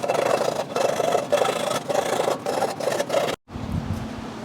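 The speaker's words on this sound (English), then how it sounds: "I am going to use my Cornfield billet file holder just to file this edge a little bit." A hand file in a billet file holder rasps along the edge of a custom metal taillight bucket in repeated even strokes, close and loud, ending with a short pause and a softer rub.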